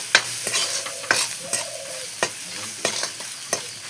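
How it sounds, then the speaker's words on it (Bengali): Chilies fry in oil in a pan for a fish curry with local herbs, giving a close, steady sizzle broken by sharp scraping stirs every half second or so. "আমি তেলের মধ্যে একটু ভাজা দিলাম, মরিচ টরিচ একটু ভাজা হইলো"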